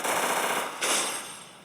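Gunfire from a video game rattles in a quick automatic burst, fairly loud, with a sharper shot standing out near the middle before the sound tails off.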